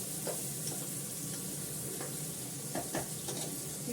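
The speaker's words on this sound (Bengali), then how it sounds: "আমি কড়াতে তেল দিয়েছি, একটুখানি পেঁয়াজ দিলাম।" Onion frying in oil in a wok (kadai) makes a soft, continuous sizzle close by, broken by light clinks and stirring scrapes, fairly quiet and with no voices.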